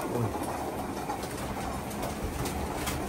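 Racing pigeons coo steadily inside a loft, a continuous soft murmur of several birds with an occasional faint wing flutter, close and moderately loud with no talking.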